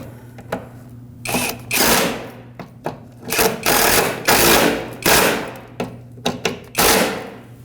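Brace bolts on a Lexus IS250 are tightened with a power tool in repeated short whirring bursts, loud and close, separated by brief pauses and clicks.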